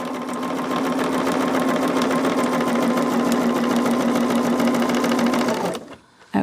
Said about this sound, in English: Let me just go on and get this one sewn together.